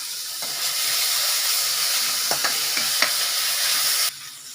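Onions sautéing in a hot pan with ginger garlic paste for a bitter gourd masala, giving a steady loud sizzle with a few stirring scrapes before the sizzle drops slightly near the end.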